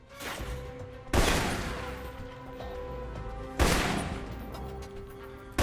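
Assault rifle fire in Alpha Protocol, loud sharp bursts at regular intervals, each followed by a sustained crackling tail of shots and echo, with no voices.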